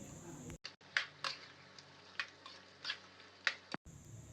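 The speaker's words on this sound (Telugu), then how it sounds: "ఇప్పుడు దీంట్లోకి ఒక స్పూన్ పసుపు యాడ్ చేసి ఒక 2 నిమిషాల పాటు కంటిన్యూగా వేయించండి." An onion and spice mix with turmeric fries in a pan for chicken curry, a faint, soft sizzle under a string of scraping stirs that come and go every half second or so.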